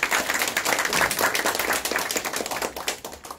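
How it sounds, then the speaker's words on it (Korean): Seminar audience applauding to welcome panel speakers at a human rights seminar on support for North Korean defectors, a dense, steady patter of clapping from a room of people lasting a few seconds. "김혜린 박사님 그리고 재성호 교수님, 김수연 교수님께 박수로 환영을 해주시면 감사하겠습니다"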